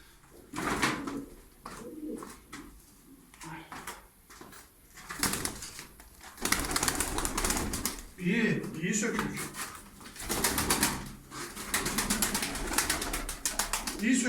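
Pigeons in a Turkish loft at Darıca give soft cooing calls with bursts of wing flapping, close by, while people talk over much of it.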